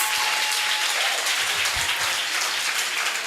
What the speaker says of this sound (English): Give this beautiful choir a round of applause for those amazing voices.